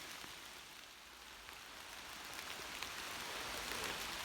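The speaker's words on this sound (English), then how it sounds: "So it's a rainy day across the Northland." Steady rain falls through the Chequamegon Forest on a rainy day, a soft, even patter of drops on leaves and water, faint and continuous with no voices.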